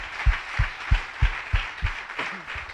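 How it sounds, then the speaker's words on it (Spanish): Congregation in a church clapping in a slow, regular rhythm, about seven even beats spaced roughly a third of a second apart, fairly loud and with no talk over them. "aplauda, aplauda, amén"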